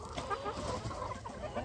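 Several chickens cluck softly and continuously nearby, a busy, overlapping murmur of hen chatter.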